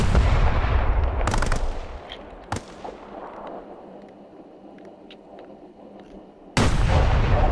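A T-14 tank cannon in the video game Arma fires loud booming shots: a heavy blast at the start, another sharp report about a second later, a decaying echo, then a final loud blast near the end.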